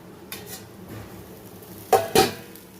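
A metal lid goes onto a pot of rice simmering in water with two quick clanks close together near the end. Before that comes a faint earlier clink over low kitchen background.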